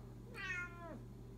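A house cat gives a single clear, rising-then-falling meow at close range. It lasts about half a second against a quiet background with a low hum.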